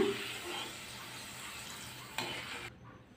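Thin potato slices fry in hot oil, giving a steady close crackling sizzle that cuts off abruptly near the end.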